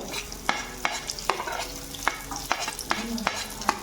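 Chopped onion sizzles in a pan for a soya chilli, with a spoon scraping and stirring in steady strokes about every half second. The sound is close and has no talking over it.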